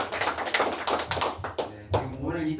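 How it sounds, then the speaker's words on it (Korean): Short burst of welcoming applause from a small seminar audience greeting first-time attendees, a few close, uneven hand claps lasting about two seconds before tapering off. "환영의 박수 한번"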